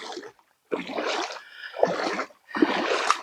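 Splashing strides through warm Mekong floodwater, four distinct bursts of sloshing and churning water close to the microphone, separated by brief quiet pauses.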